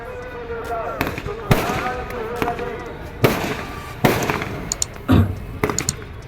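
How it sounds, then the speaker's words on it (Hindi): Fireworks display at the Dewa Sharif fair in India: repeated loud booms and crackling bursts at irregular intervals, with a voice talking between them. "देर तक ये आतिशबाजी चल रही है।"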